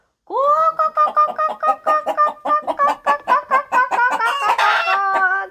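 A voice imitates a chicken in a Ukrainian children's farm-animal song, clucking in a rapid run of short, rhythmic syllables, loud and close, rising into a brief crow-like flourish near the end.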